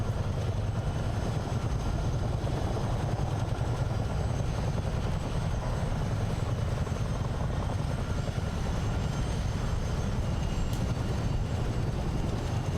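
CH-47 Chinook twin-rotor helicopter flying up the Potomac River in Microsoft Flight Simulator, a constant dense rotor and engine roar that stays loud and unbroken throughout.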